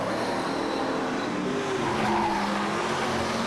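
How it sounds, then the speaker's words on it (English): Super sedan race cars lap Gympie Speedway, a dirt oval, in a loud, continuous engine roar with tyre noise, the pitch shifting slightly as the cars sweep past the start-finish line. "Now they're coming up quickly to put a lap on Jeff Bingham as Mark Pagel underneath the start-finish line in front of Paul Carlish."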